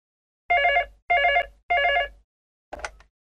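A telephone bell rings three times in even, closely spaced bursts, clear and close in silence, followed by a shorter fourth ring.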